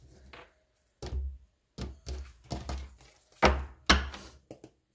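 A tarot deck is shuffled by hand nearby in a series of separate soft thudding bursts and taps at an uneven pace, with short quiet gaps between them.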